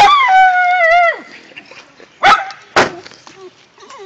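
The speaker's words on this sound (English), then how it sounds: "That's a very hello bark." A dog gives a long, tonal howling bark up close, then two sharp, loud single barks after a pause, with fainter vocal sounds in between.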